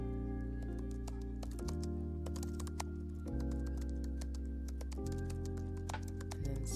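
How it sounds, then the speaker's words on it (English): Computer keyboard typing runs as a steady, soft background layer of rapid clicks beneath sustained ambient music tones. "We're going to do some typing."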